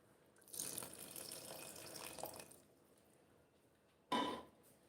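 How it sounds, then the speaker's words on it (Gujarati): Water poured into a bowl of ground urad dal and rice batter, a soft splashing pour lasting under two seconds, then a brief sharper splash after a pause, fairly quiet and close. "તો અમે હજુ પાણી નાખીશું થોડુંક"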